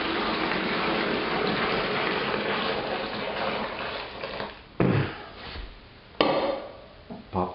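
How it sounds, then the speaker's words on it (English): A long steady gush of water fills a container to mix a homebrew equipment cleaner, loud and close, followed by two sharp splashes and sloshing as the pour ends. "Now the rest of the water to mix it all up really good."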